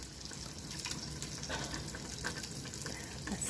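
Food stirred in a hot pan for burgers and potato wedges, a soft continuous sizzle with faint scraping and liquid bubbling, steady and close, with no talk.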